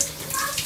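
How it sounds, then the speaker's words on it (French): Water from a small relaxing shower runs in a steady broadband hiss for under a second, close and moderately loud, with no clear speech over it. "Là, on est sur la petite douche relaxante."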